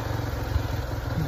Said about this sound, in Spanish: Cuando te pasean en la moto.